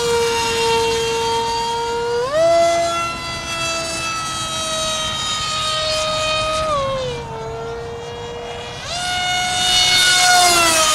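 A remote-controlled Grayson Hobby Monster Jet prototype plane flies fast overhead, its loud, high-pitched jet whine rising and falling in pitch as it passes, with no talking.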